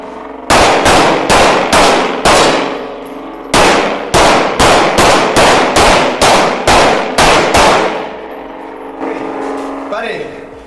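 Rapid bursts of gunfire crack out in two runs of sharp, loud shots, each with ringing decay, until the weapon runs dry and a voice speaks faintly at the end.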